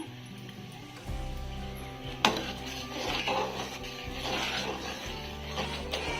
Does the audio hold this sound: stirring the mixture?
yes